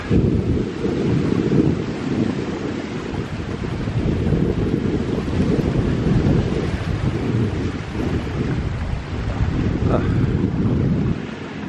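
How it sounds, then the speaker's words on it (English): Strong wind blowing across a Gulf coast beach at Cedar Key with surf, a loud continuous roar and rumble buffeting the microphone, steady throughout with no clear speech. "there's a stout wind coming from over there"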